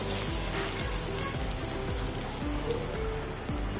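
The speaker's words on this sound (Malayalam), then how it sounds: "ഒന്ന് ഇളക്കി കൊടുക്കുക" Chopped onion and curry leaves fry in a pan as they are stirred, giving a steady close sizzle that runs under background music for the whole stretch.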